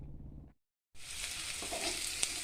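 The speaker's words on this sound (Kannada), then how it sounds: "ಈಗ ಇಲ್ಲಿ ಸ್ವಲ್ಪ ಒಂದು ಪ್ಯಾನಲ್ಲಿ ಎಣ್ಣೆ ಹಾಕಿ ಆನಿಯನನ್ನು ಉದ್ದುದ್ದ ಕಟ್ ಮಾಡಿ ಫ್ರೈ ಮಾಡ್ತಾ ಇದ್ದೇನೆ" Lengthwise-sliced onions frying in oil in a pan, with a continuous loud, close sizzle that starts abruptly after a moment of silence and carries on steadily with faint crackles.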